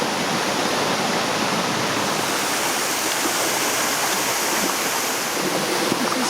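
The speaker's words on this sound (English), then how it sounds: "This is where the water comes out from underneath" Spring water gushes out from underneath at an old communal washing spot in Baños, Ecuador, a steady, dense rushing roar like a small waterfall, close and constant with no voices.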